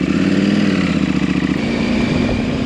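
An adventure motorcycle cruises along, its engine a loud, steady, close-up drone with a slight pulsing throb and faint wind, no voices.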